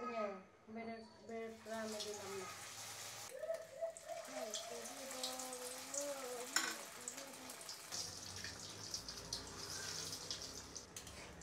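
Fish cutlets frying in a pan on low heat, a continuous sizzling hiss running throughout, with people talking over it in the first half.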